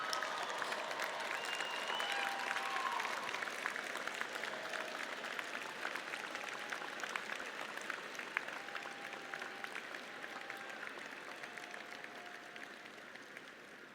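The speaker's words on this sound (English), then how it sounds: "give your loved ones a round of applause" Graduates at a spring commencement ceremony clap for their families in a long, even wash of applause from a large crowd, slowly thinning toward the end.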